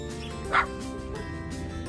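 A dog at a park in Kawagoe, Japan gives a single short, sharp bark partway through, over a steady background hum.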